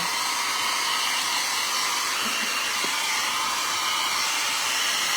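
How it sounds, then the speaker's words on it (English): A hair dryer blowing steadily at full power, a loud continuous rushing roar from start to finish. "This little blow dryer really gives off, it has some power to it."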